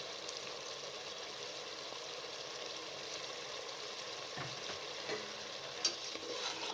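Gobhi gosht, cauliflower and meat curry spiced with garam masala, black pepper, coriander and green chillies, sizzles softly and steadily in a pan, with a few scraping stirs and light clinks near the end.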